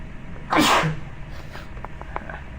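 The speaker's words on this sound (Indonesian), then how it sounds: "Saya hari-hari ini sering bersin itu" One loud, close sneeze from a man during a lecture, a sharp burst followed by a few faint quieter sounds and soft room noise.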